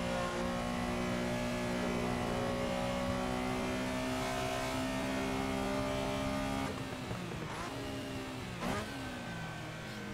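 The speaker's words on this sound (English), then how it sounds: "Over rev the engine." A Porsche 911 Carrera RSR race car in Assetto Corsa, its engine screaming at high, steady revs before sharp drops and rebounds as it over-revs and shifts, loud and close with no talking.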